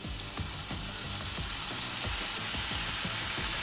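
A steady, loud sizzle of curry with coconut milk cooking in a pan, with rhythmic low scraping knocks as the mixture is stirred throughout.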